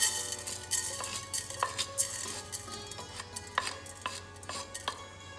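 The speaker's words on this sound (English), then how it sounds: "We are going to dry roast all these masalas." Coriander seeds and other whole spices are dry roasted in a pan, heard as light metallic clinks and scrapes of stirring in an irregular rhythm over a low steady hum, fairly quiet and without talk.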